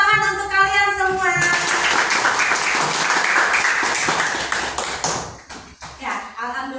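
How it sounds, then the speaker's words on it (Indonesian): Classroom applause for students at the close of a lesson: a voice at the start, then dense, sustained clapping from the group that fills several seconds before tapering off near the end. "Tepuk tangan untuk kalian semua"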